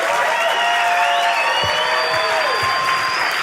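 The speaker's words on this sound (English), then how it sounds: "Give yourselves a round of applause." A comedy club audience gives a dense, loud round of applause that holds steady throughout, while sustained gliding tones ring over the crowd.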